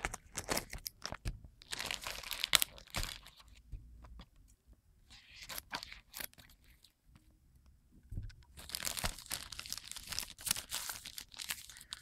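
Plastic packaging of a craft kit crinkles and tears as it is cut open, with quiet, irregular crackling bursts up close and short pauses between them.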